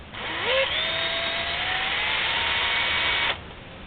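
A case trimmer cuts brass off a .44 Magnum cartridge case, a steady whirring grind of about three seconds that rises briefly then stops abruptly, close and clear.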